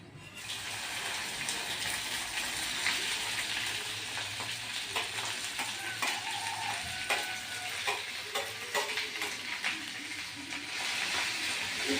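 Oil fries in a pan before onion and chili go in, a steady close sizzle with faint crackles and light stirring taps running throughout, with no voices.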